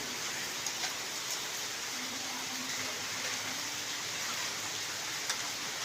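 Steady rain hissing without a break in Noakhali, Bangladesh, a dense even wash of drops with a faint low hum underneath and no voices.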